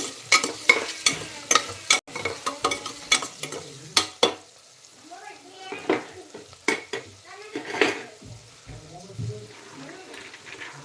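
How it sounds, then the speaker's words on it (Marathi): Turmeric and homemade khichdi masala being stirred into khichdi in a pan, with a spoon scraping and clinking against the metal in bursts over a soft sizzle, loud and close, with short pauses between strokes. "आणि एक चम्मच हळद हे सगळं मिक्स करून घेऊ"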